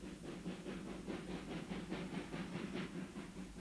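A narrow-gauge steam train with an 87-year-old locomotive, retired in 1931, is driven in at a 1989 parade in Riesa, with steady chuffing and rhythmic rail clatter at moderate distance.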